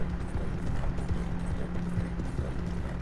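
Horse hooves clip-clopping in the Red Dead Online video game, a steady run of soft, close hoof beats over a low rumbling game background.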